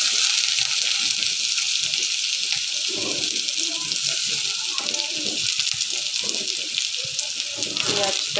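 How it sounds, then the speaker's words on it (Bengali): Onion frying in oil in a kadai gives a loud, continuous hiss and crackle close by, with scattered clatters of stirring. "তেল দিয়ে এখন পেঁয়াজটা দিয়ে দিব"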